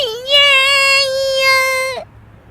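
A cartoon girl in an animated Hindi story bursts into a single sustained, high wailing cry lasting under two seconds, loud and close, then cuts off.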